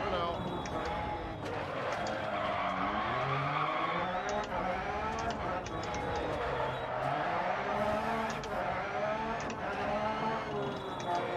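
A Peugeot 208 T16 rally car skids and spins out on a hill-climb course in a racing game, engine droning steadily and loud throughout with tyre scrub, while excited voices talk over it.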